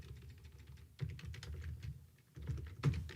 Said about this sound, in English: I'm going to type in first PV function